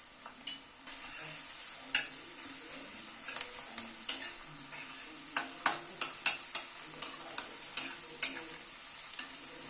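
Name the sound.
frying and stirring crushed garlic in pan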